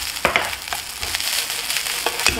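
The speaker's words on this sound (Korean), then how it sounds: "그래서 빨리 볶아서 빼주셔야 돼요" Garlic chives stir-fried quickly in a hot pan with salt and sesame oil for a chive japchae dish. A steady sizzle runs throughout, broken by repeated scraping stir strokes of a utensil against the pan.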